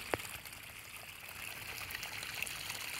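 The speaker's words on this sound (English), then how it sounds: "we've actually got another massive waterfall right here" Water running down a small man-made waterfall on a crawl course, a steady, moderately distant rushing trickle with no voices.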